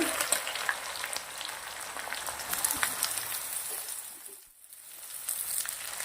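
Okra fries in hot oil with mustard seeds and chilies, a crackling, popping sizzle that fades briefly near the end, then resumes.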